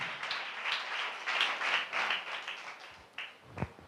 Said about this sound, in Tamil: நல்ல கைத்தட்டி தேவனை மகிமைப்படுத்துவீங்களா?